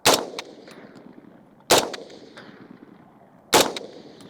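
Three sharp, loud rifle shots are fired at a 50-yard target at a shooting range, spaced evenly about two seconds apart, each followed by a short decaying echo.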